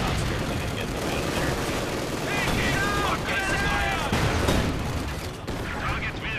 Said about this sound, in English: then I get pinned by their machine gun over here